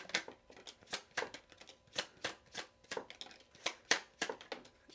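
Oracle cards being shuffled by hand in a quiet room: quick, papery riffles and slaps in irregular bursts, close and soft, with no talking.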